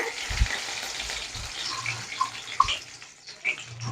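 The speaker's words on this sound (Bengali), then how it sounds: "কড়াই আবার তেল দিয়ে দিয়েছি তেল গরম হয়ে গেছে এর মধ্যে আমি কারি পাতা দিয়ে দিলাম" Curry leaves sizzle and crackle in hot oil in a kadai, a steady hiss dotted with sharp pops and spits, fairly soft and close, with occasional utensil knocks.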